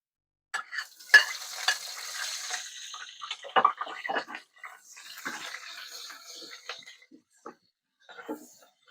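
Onions go into a pan of browned garlic, followed by intermittent stirring, scraping and soft sizzling in scattered bursts, with quiet pauses between them.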